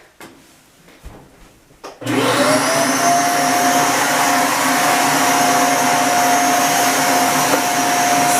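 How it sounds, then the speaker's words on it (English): After a few faint knocks, a vacuum cleaner switches on and roars steadily at close range with a high whine. "So just going to vacuum here for a bit."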